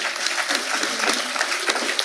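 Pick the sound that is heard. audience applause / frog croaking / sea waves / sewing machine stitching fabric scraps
audience applause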